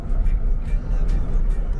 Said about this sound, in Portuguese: Caminhãozão aí, provavelmente carregado de cimento.